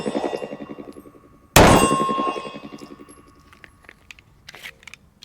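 A single sharp 9mm pistol shot from a test of defensive loads cracks out loud and close, followed by a ringing, metallic decay and a few faint clicks afterward.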